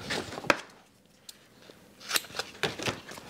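A few crisp snips of scissors cutting through sealing tape, close and fairly quiet, with short pauses between cuts.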